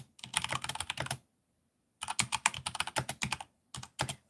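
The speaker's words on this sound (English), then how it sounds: "my brain makes me do the spacebar like I'm typing." Clacky keystrokes and spacebar taps on a computer keyboard come in three quick bursts separated by short pauses, close and fairly quiet, with no voices.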